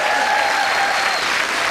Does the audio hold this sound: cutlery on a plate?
no